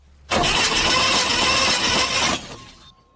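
An old Saab engine that sat in a garage for thirty years sputters into life, a loud close crank and rough firing roar held for about two seconds before fading into an uneven idle.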